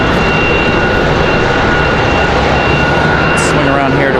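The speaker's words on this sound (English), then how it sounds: "Looks like we got Frontier 4207 coming in from Syracuse. Another A320neo." A Frontier Airbus A320neo jet arrives at Raleigh-Durham International Airport, its engines a steady, loud broadband roar with a faint whine held throughout, heard outdoors with voices talking over it.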